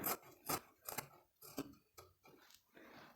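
Scissors snipping through blouse fabric during tailoring, about seven distinct crisp cuts in an uneven rhythm, close and fairly quiet with no talk.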